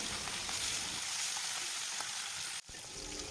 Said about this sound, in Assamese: মিঠাতেলখিনি ভালদৰে গৰম হোৱাত হালধি নিমখ সানি থোৱা মাছখিনি দি দিছোঁ